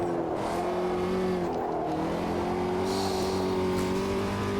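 Formula Dirt car in Automobilista 2, a Volkswagen Beetle-based racer with a 4-speed gearbox, its engine droning steadily close by, pitch dipping and climbing again through gear changes on dirt.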